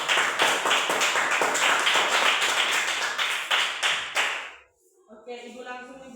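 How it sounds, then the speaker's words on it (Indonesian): A classroom group of students claps together for their group, a dense burst of many hands lasting about four and a half seconds before stopping, followed by a voice speaking. "tepuk tangan dulu untuk kelompok 1"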